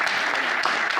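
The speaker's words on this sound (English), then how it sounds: "You guys can clap now." An audience at a talk on tech companies and local businesses claps in a short, steady burst of dense applause with no pauses.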